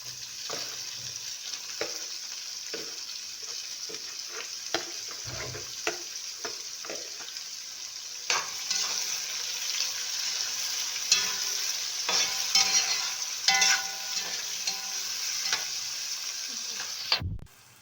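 Onion, carrot and green beans sauté in a hot pan, giving a constant sizzle broken by repeated scraping stirs. The frying grows slightly louder midway and stays close and steady throughout, with no talking.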